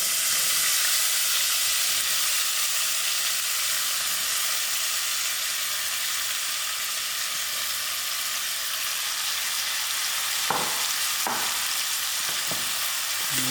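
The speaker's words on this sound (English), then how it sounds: "Then I'm going to throw in all my potatoes." Potatoes sizzling steadily in a hot pan of oil for a samosa potato curry, a loud continuous fry hiss with a few sharp clinks of a spoon near the end; no talking.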